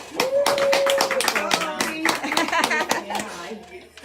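A crowd claps steadily for several seconds, with a sustained whistle or cheer near the start.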